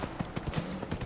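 Horse hooves clip-clopping in the video game Dragon Age: Inquisition, a quick, even run of about eight close, distinct hoof strikes at a steady pace, alone with no talk.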